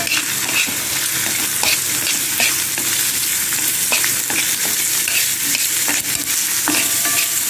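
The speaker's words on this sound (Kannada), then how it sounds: "ಒಂದು ದೊಡ್ಡ ನೀರುಳ್ಳಿ ಹಾಕಿದ್ದೇನೆ ನಿಮಗೆ ಮಸಾಲೆ ತಕ್ಕ ಹಾಕಿಕೊಳ್ಬೋದು ಹಾಕಿ ಉರಿಯಿರಿ" Chopped onion and masala sizzle and fry in a pan for a banana leaf fish fry, a steady close crackle with occasional stirring scrapes of a spoon against the pan, no voices.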